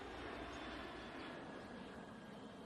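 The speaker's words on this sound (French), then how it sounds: "Excusez-moi pour l'avion, hein?" Faint, steady airplane drone filling the whole stretch with broadband rumble and hiss, distant and unchanging, no voices over it.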